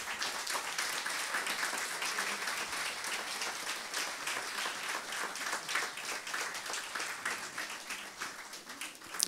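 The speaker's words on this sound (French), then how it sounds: "applaudissez-les, encouragez-les." A church congregation applauds children, with sustained, dense clapping from a large crowd filling the room at a steady level for the whole stretch.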